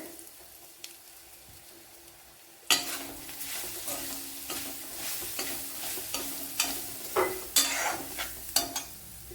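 After a quiet start, a handful of grated coconut hits a hot pan and fries with a soft sizzle, broken by repeated close scraping strokes of a spoon stirring it.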